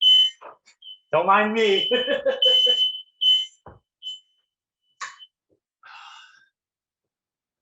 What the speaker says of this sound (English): We got a very, very, very sensitive fire alarm that is right over my head.